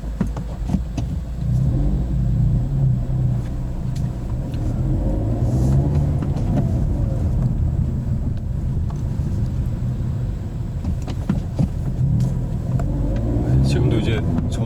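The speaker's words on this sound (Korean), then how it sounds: "1단에서 회전수 올려주고 놓고 가속을 한 거죠." A manual-transmission car revs up in first gear and accelerates away, a steady close engine rumble filling the cabin while someone talks throughout.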